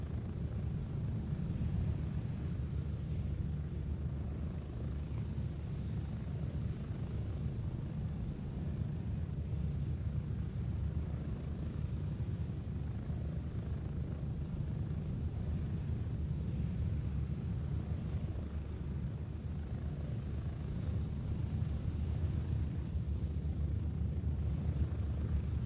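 Aircraft engine during a slow takeoff, a low continuous drone holding steady for about twenty-five seconds, moderately loud with no talk over it.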